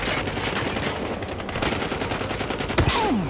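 A shooting vehicle in Battlefield Hardline fires rapid, loud machine-gun bursts nearly nonstop, ending in a sharp whooshing blast near the finish.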